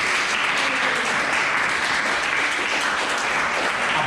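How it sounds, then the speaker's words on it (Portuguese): A church congregation applauds during a sermon, producing dense, even clapping that stays loud and continuous from start to finish, with no pauses and no voice rising above it. "Dê um forte aplauso ao Senhor"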